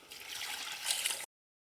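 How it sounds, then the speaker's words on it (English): Water poured into a cooking pot of meat and lentils for haleem, a steady pour for about a second, a broad hissing splash that swells near the end, then stops abruptly. "Add 10 cups of water."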